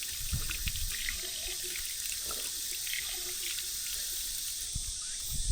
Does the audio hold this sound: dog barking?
no